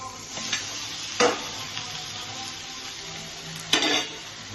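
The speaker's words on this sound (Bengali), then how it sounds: "দিয়ে এটাকে কষাবো।" Jackfruit, potatoes and prawns stir-fry in a hot pan, with a continuous sizzle broken by two sharp scraping stirs of the spatula partway through, close and clear, with no talking.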